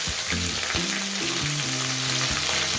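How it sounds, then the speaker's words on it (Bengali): Chopped medium onion sizzles loudly in hot oil with black cumin, a dense, unbroken frying hiss heard up close. Music plays faintly underneath. "ফোড়নটা কয়েক সেকেন্ড ভেজে নেবার পর এর মধ্যে একটা মিডিয়াম সাইজের পেঁয়াজ কুচি দিয়ে দিলাম।"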